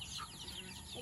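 Chicken clucking in a brief, faint burst of short calls against background noise.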